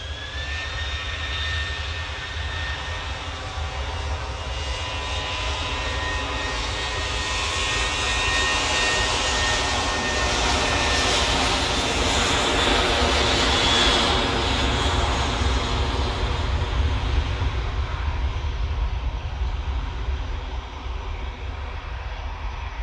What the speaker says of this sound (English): This EasyJet is off to Copenhagen, Boeing 737-800